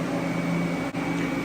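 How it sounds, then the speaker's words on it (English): A steady electric hum and hiss of TIG welding on a turbo manifold collector for a turbocharged 5.3 V8 New Edge Mustang, continuous and close, with one brief dip near the end. "We're gonna start welding it up."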